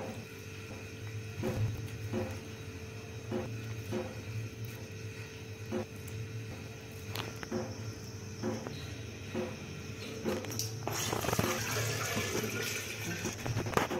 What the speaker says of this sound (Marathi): तीन चार पाण्याने धुवून घेते मी